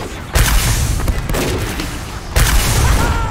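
Sticky bombs in Team Fortress 2 go off as two heavy, loud, booming blasts about two seconds apart, each followed by a rumbling, crackling tail amid game noise.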